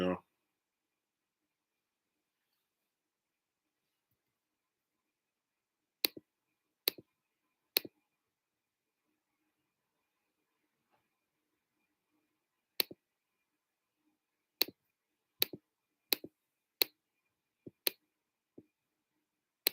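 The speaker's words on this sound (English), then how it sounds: "Here we go with that keyboard again." A computer keyboard gives sparse, sharp clicks, some single and some in quick pairs or bursts, separated by long stretches of near silence.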